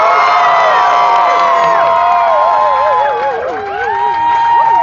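Large outdoor crowd at Def Leppard's Hollywood Walk of Fame star ceremony, cheering loudly with many overlapping whoops and high shouts in a dense, sustained roar.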